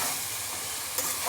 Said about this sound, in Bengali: ছোলা শাকগুলো সব আলু আর শিমের সাথে দিয়ে এবার খানিকক্ষণ ভাজা ভাজা করে নেব